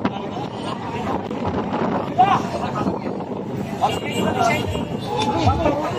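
Strong southwest monsoon wind roars and buffets steadily throughout, with someone talking over the constant rushing noise.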